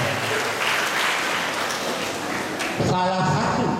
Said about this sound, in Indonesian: beri tepuk tangan untuk temannya